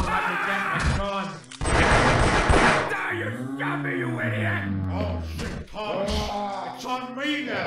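Gunfire in the horror video game They Hunger, a burst of sharp, loud shots lasting about a second, with excited voices talking and shouting before and after.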